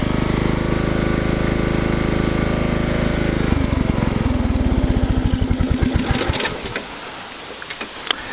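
A riding mower engine roars steadily at full throttle, loud and close, its harmonic drone shifting to a choppier idle-like rhythm midway before trailing off with a few clanks near the end.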